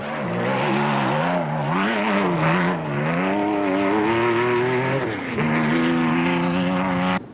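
A Jimco off-road race vehicle roars through the Carnival City 400 race, its engine loud and close, pitch rising and falling with gear changes and throttle, a brief dip midway before revving hard again, no voices.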